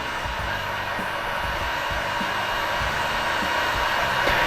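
A heat blower warms the glue on an iPhone 13 camera lens, producing a steady, close, loud blowing hiss with a low motor rumble, constant with no breaks.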